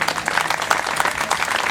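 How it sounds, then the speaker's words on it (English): An outdoor audience at a Memorial Day ceremony in Hyde Park, New York claps in a dense, steady burst of applause that carries on throughout. "So let's have a round of applause for Dan Kuffner."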